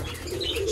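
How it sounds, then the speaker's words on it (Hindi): Pet pigeons in a cage, one sitting on eggs, give a low, soft cooing close by during a brief moment with faint chirps and a light rustle of wings, and no one talking. "ये कबूतर हमारा ये भी बैठा हुआ है अंडों पे"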